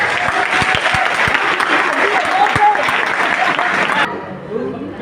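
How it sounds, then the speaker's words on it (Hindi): Loud applause from a crowd at a health care company meeting in a New Delhi hall, dense clapping with a few sharp close claps, cutting off abruptly near the end. "जोरदार तालियां एक बार"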